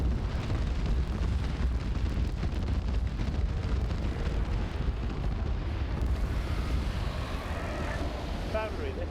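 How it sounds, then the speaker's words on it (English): Cluster bomb explosions rumble in a winter military video game battle, a broad, sustained roar that swells and crackles like a long chain of distant blasts, with faint radio voices near the end. "That's another cluster bomb."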